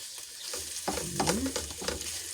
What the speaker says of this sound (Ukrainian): Так, перемішуємо з морквою.